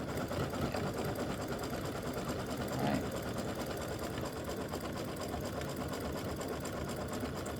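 Embroidery machine running a satin stitch around an appliqué Christmas stocking, a steady fast mechanical whirring and needle chatter, continuous and even at moderate level.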